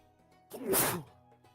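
A single close sneeze bursts out sharply for about half a second in an otherwise quiet room.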